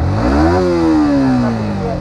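A modified Yamaha MT-15 motorcycle engine revs loudly up close, its pitch climbing quickly and then easing back down in one sustained throttle blip.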